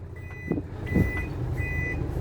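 A dump truck in reverse sounds its repeating high reversing beeps, three clear tones at an even pace, over a low rumbling diesel engine and cab noise.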